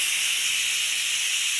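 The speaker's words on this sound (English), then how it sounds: "So the steam does need to be released." Steady, loud hiss of steam venting from an electric pressure cooker as the pressure is released, a continuous broadband rush with no pauses and no voices.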